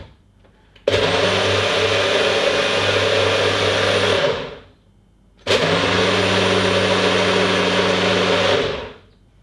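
NutriBullet 600 Series blender churning a thick milk mixture in two loud, steady whirring runs of about four seconds each, with a brief pause between them as the motor winds down and starts again, close and with no voices.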